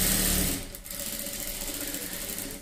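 A sewing machine runs steadily while stitching a small skirt for a young child, a close, continuous high mechanical whir with a slight dip near the start and no talking.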